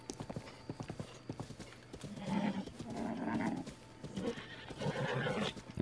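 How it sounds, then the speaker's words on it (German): Horses in The Legend of Zelda: Breath of the Wild trot with brisk clip-clop hoofbeats, then neigh and whinny repeatedly over the steps, the calls swelling loud and close several times. "Noch mehr Pferde."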